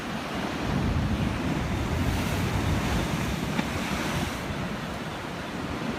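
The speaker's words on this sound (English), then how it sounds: "Y'all don't get waves like this nowhere else." Ocean waves at Ocean Beach, San Diego: a steady, loud wash of surf rolls on without a break, mixed with wind rushing across the microphone, and no voices are heard.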